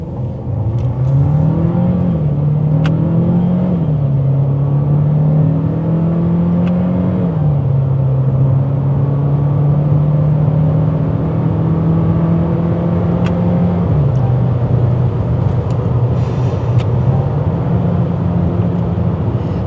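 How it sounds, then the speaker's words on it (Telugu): A 2026 Renault Duster's engine hums loudly and steadily from inside the cabin during a 0 to 100 launch, its pitch stepping up and dropping back with gear changes over about twenty seconds. "సో అప్పటి వరకు మీ ఇంజన్ సౌండ్ అయితే వినొచ్చు. సో 0 to 100 ఒకసారి చూడొచ్చు ఎంత టైం పట్టిందో స్క్రీన్ మీద."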